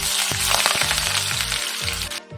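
Sliced onions for birista fry in hot oil for a desi-rice biryani, giving a dense, close, continuous sizzle over a rhythmic low thumping pulse.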